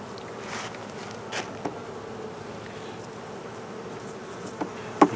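Honeybees buzz around an open hive during an apiary inspection, giving a faint, steady hum. A few louder passes come from single bees flying close by.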